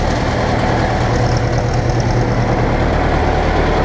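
A heavy Ursus tractor engine runs loud and close, a steady low rumble that holds even throughout.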